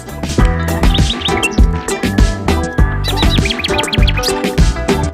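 Bright bird chirps and tweets over a dense, busy musical backing, with short high calls repeating in bursts throughout.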